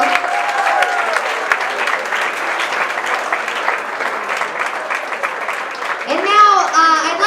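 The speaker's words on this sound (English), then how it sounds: "One more round of applause for Rob." Wedding guests at a reception break into a sustained round of clapping, dense and steady, with voices rising over it near the end.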